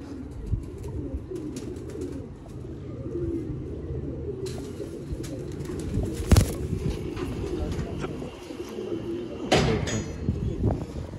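Pigeons in a fancier's loft coo and murmur continuously nearby, broken by a few sharp clattering knocks and rustles, one loud near the middle and another toward the end.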